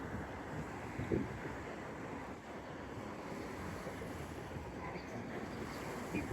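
Ocean waves wash onto a large city beach in Montevideo in a steady, continuous surf roar with wind buffeting the microphone and no clear talk.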